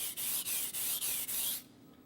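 A chef's knife drawn up and down across a sharpening stone: about six even, rhythmic abrasive strokes, close and bright, stopping abruptly partway through and leaving quiet.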